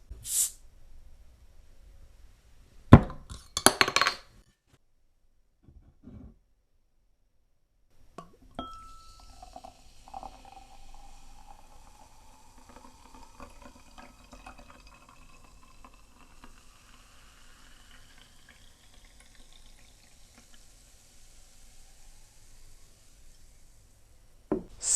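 A bottle of homemade cider made from concentrate is opened with a sharp crack and hiss, then poured into a glass as a long, faint, steady trickle with fizzing, with no talk.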